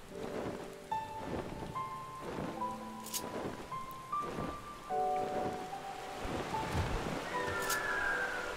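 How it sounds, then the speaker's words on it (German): Steady in-game rain in Final Fantasy XIV patters throughout, with scattered drops and a soft background hiss, while faint tonal music-like notes sit underneath. "Es regnet schon wieder."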